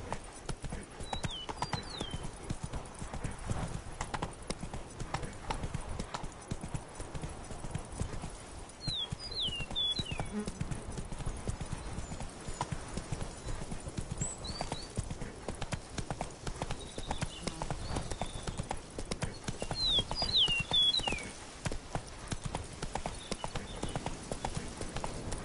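Steady clip-clop of Roach the horse's hooves in The Witcher 3: Blood and Wine, a continuous trotting rhythm over ambient game background with occasional faint bird chirps.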